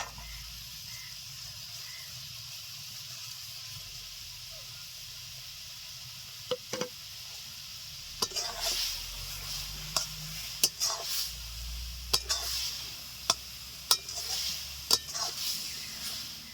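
Raw mango chutney with sugar and dried chillies stirred in a pan over medium heat, a soft continuous sizzle with sharper scraping strokes of the spoon growing more frequent in the second half, no talk.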